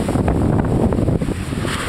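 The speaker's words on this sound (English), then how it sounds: "And the waves are going a little crazy on me." Ocean surf on the south shore of Maui at Kihei rushes loudly and close, a short wash of breaking water heavily mixed with wind buffeting the microphone.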